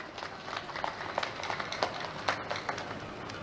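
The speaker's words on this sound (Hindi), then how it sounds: "तो हाथ उठा के ताली बजाओ आप लोग भी" A crowd at an election rally in Darbhanga, Bihar, claps continuously. The patter of many hands is fairly distant and even, with no clear speech on top.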